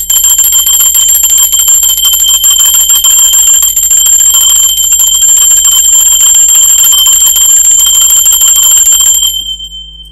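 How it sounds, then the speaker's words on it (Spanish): A bell is rung continuously for about nine seconds, giving a loud, steady, bright metallic ringing with no talk over it. It then stops abruptly and leaves near silence. "Ahora sí, va campana"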